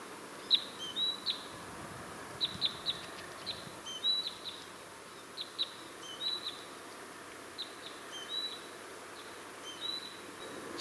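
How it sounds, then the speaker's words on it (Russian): Small birds chirp and trill in a quiet countryside forest near a village, short high calls repeating every second or so at moderate distance over a soft background hush. "Птички поют."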